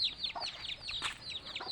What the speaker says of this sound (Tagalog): Yung manok eh.